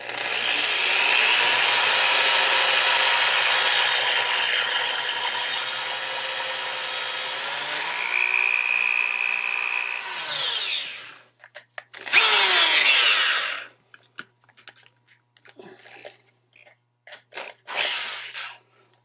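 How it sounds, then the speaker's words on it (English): A power drill grinds steadily through a soft lock cylinder, loud and close, its pitch shifting as the bit bites, then stops and gives way to scattered clunks and handling knocks. "You're going to need carbide tipped or diamond tipped bits to get through some of these."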